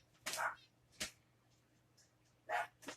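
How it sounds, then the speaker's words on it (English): A dog barks a few times at the rain, muffled and fairly distant from another room, with gaps of quiet between the barks. "I'm sorry about Django in there barking."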